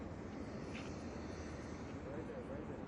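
Aircraft noise rumbles steadily overhead in New York, a faint, continuous engine drone with no clear rotor beat, while people talk nearby.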